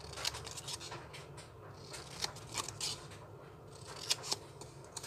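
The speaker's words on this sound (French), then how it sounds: "voilà comment je prends mon papier. Et je viens découper" Scissors snip through paper to cut out folded box pieces for a handmade advent calendar, a string of short crisp cuts and rustles heard up close and fairly quiet, with no talking.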